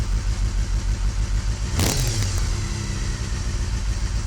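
A Honda CBR250RRi engine is revved with a quick, sharp flip of the throttle. One loud burst rises above a steady engine drone about halfway through, then drops back to idle.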